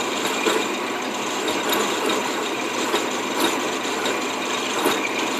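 An Atlas QC42 lathe cutting off a washer for a lawn tractor, a dense, steady grinding rasp of the tool on metal with faint periodic rattles, close and continuous throughout.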